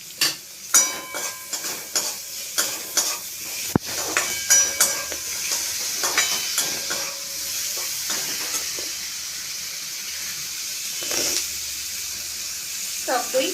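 Chopped onion, garlic, grated ginger, tomato and chili hit hot spices in a pan and sizzle steadily, with a run of rhythmic stirring scrapes at first and a spoon clink, close and alone.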